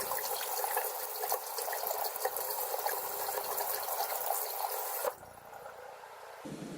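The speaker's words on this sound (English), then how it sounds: "making coffee. Gotta get my refill" Water pours steadily from a tap into a container for a second cup of coffee, a continuous close trickle that cuts off and changes near the end.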